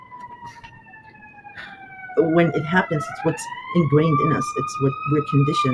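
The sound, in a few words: emergency vehicle sirens passing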